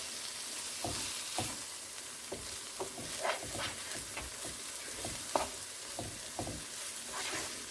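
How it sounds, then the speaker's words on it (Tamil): Banana flower and lentil usili sizzles in a pan while a spoon stirs it, a steady close frying crackle broken by regular scraping strokes, no talking. "இப்போ எல்லாத்தையும் சேர்த்து மிக்ஸ் பண்ணிவிடுங்க."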